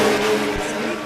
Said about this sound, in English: The Suzuki Sierra. Just wait till you watch it run.